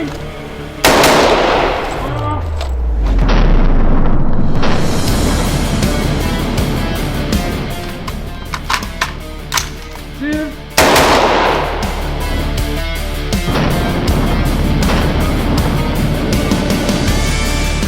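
An AR-15 rifle firing outdoors, with a loud burst of rapid shots at the start, then scattered single cracks and reports with echoing tails, and another sharp burst of fire partway through.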